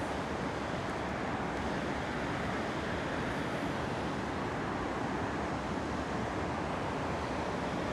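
Steady broadband rush of moving water beside a riverbank on a morning breeze, continuous and fairly close, mixed with soft wind noise and no pauses or voices.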